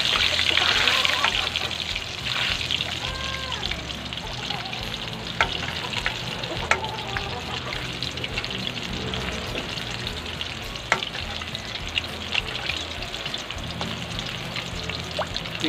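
Lechon kawali pieces spit and sizzle in hot oil under a covered pan, a busy crackling hiss with sharp pops scattered throughout, close and steady, while a voice speaks briefly at times.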